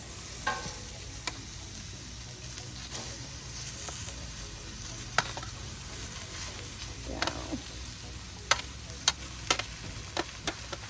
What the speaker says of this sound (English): You hear that sizzling already